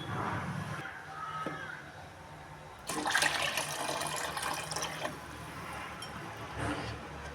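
Water gushes and splashes into a cooking pot of rice and vegetables with onion for several seconds, a loud continuous rushing pour that trails off into quieter sloshing.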